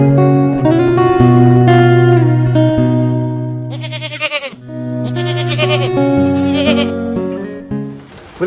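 Goats bleat on a backyard goat farm in the countryside on a rainy day, with loud, drawn-out, wavering calls that overlap and continue almost without pause.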